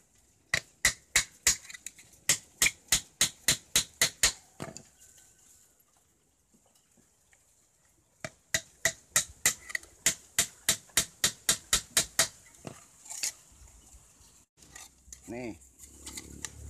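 Sharp, evenly spaced hammer blows drive nails into a wooden batten on a quail cage, two long rapid runs of ringing strikes separated by a pause, close and loud with no talk over them.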